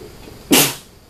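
A single sharp sneeze bursts out suddenly in a quiet room, loud and brief, then fades into a short breathy tail.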